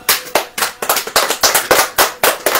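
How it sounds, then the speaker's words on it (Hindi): A church congregation claps hands together in a quick, loud, steady rhythm, about a dozen claps across a couple of seconds, close and with no talking. "ताली बजाइए।"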